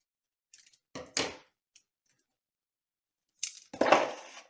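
Scissors snip transparent tape during a craft project, with a few quiet clicks followed by two crisp cutting bursts separated by silence, close up and without talk.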